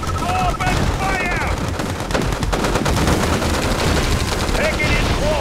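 Rapid bursts of gunfire from units in Red Alert 2: Yuri's Revenge, dense and continuous, layered with short unit voice responses and battle noise.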